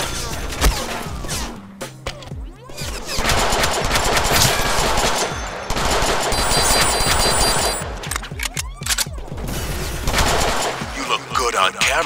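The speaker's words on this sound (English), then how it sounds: "I have a machine gun!" Machine gun fire in the Deadpool video game, loud rapid bursts repeating across the scene with brief gaps, mixed with game effects and a voice talking over it.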